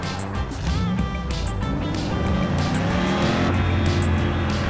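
In Just Cause 3, a soap box car rolls along with a continuous loud engine-like drone and road noise, with some tire squeal and whooshing passes mixed in.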